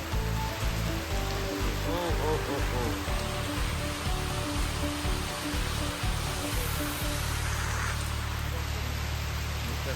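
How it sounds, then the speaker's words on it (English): Heavy rain pours steadily in Bangalore, a dense continuous roar of water close by, with a brief voice exclaiming over it. "Look at that rain."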